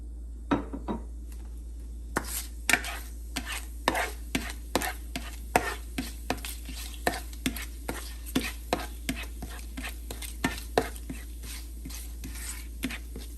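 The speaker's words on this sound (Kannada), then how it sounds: "ಸೊ ಎಣ್ಣೆ ತುಪ್ಪ ಬಿಸಿಯಾಗಿದೆ. ಸೊ ಈ ಗರಂ ಮಸಾಲೆ ಇಂಗ್ರೀಡಿಯೆಂಟ್ಸ್ನ ಹಾಕೋಣ." Whole garam masala spices with cumin and fennel seeds frying in hot oil and ghee, giving a steady run of sharp, close crackles and pops over a low hiss.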